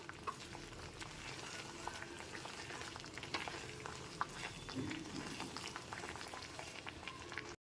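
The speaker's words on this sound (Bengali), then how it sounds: "গ্যাসের ফ্লেমটা লোতে রেখে খুন্তিটা দিয়ে ক্রমাগত এরকম নেড়ে ক্যারামেলটা রেডি করে নিতে হবে" Sugar caramelising in a pan over a low gas flame while being stirred continuously with a spatula, giving a steady soft bubbling and faint scraping texture with small irregular clicks throughout.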